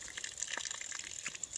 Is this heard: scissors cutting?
no